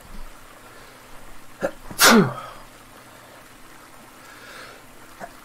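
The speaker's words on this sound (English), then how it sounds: "Excuse me, I have to sneeze." A single sharp sneeze bursts out after a couple of small breaths, loud and close, followed by quiet room tone.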